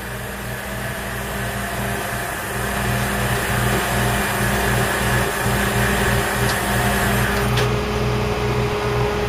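A tow truck engine pulls a vehicle back on an icy road, giving a steady, loud, close mechanical drone with a throbbing low hum that continues unbroken throughout, with no talking.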